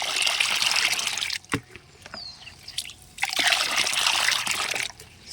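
A homemade insect repellent solution swirls and sloshes in water in two bursts of stirring, with a short clunk and pause in between; close and moderately loud.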